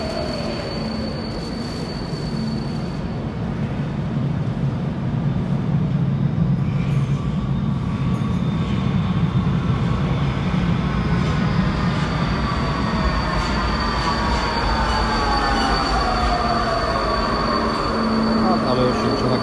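A Budapest metro train runs in a loud, continuous roar, its wheels squealing in high rising and falling tones across the whole stretch, heard from inside the car with muffled voices in the background.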